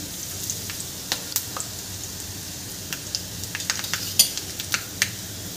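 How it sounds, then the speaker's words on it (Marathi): Curry leaves frying with garlic in a pan, a faint low sizzle with scattered small crackles and pops, quiet and close, without speech. "यामध्ये आपण कढीपत्ता घालून घ्यायचा आहे।"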